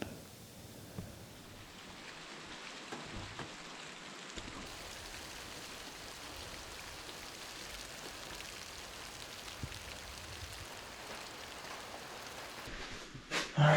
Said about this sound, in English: Just kind of was waiting for that rain to pass